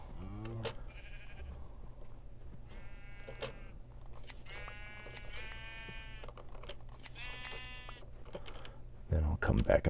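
Several sheep in the video game Minecraft bleat in a series of separate wavering calls spread across the span, with light clicking and a low hum underneath, close and clear.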